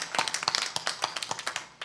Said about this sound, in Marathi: गंभीर महाराजांसाठी जोरदार टाळ्या देऊया